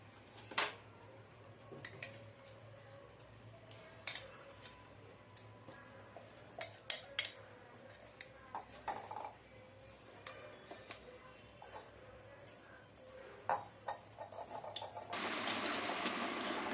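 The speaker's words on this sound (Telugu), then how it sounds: "ఈ పెరుగు వేసుకొని బాగా కలుపుకోవాలండి" Curd is stirred into grated coconut in a bowl, with faint, scattered scraping and clinking of a spoon against the dish over a low steady hum, ending in a louder rushing noise.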